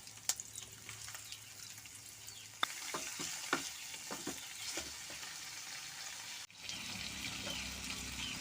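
Tomatoes frying in a pan for paneer gravy, a continuous sizzle with scraping spoon stirs and a brief clatter partway through, fairly quiet and without talk.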